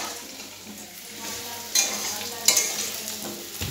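Food frying and being stirred in a pan in a home kitchen, a soft, low sizzle with two sharp metallic scrapes from the spatula partway through.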